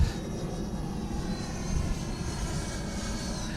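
A Freewing Avanti S radio-controlled jet cruises past at about half throttle, giving a steady, continuous whooshing engine roar at moderate distance with a slight swell midway.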